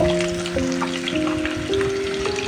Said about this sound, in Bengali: এখানে মুরগিগুলো ভাজা হয়ে গেছে তেলের মাঝে